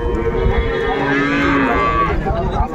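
A dairy cow with her calf moos loudly and close by at an Ambari cattle market in Dinajpur, one long drawn-out bellow filling the moment over a busy market background.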